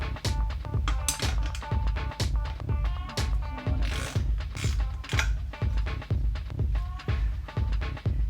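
A bike wheel axle nut is adjusted and tightened with a wrench, giving a steady run of rapid ratcheting clicks and metallic mechanism noise, close and loud throughout.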